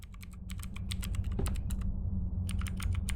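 Rapid keyboard typing from a video game, with bursts of crisp clicking keystrokes, a short pause, then another quick run of keys over a low steady background hum.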